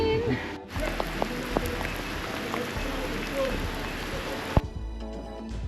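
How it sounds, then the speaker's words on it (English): Steady rain patters and hisses on surfaces nearby at a running track, a dense continuous wash of drops that cuts off abruptly near the end. "It's raining!"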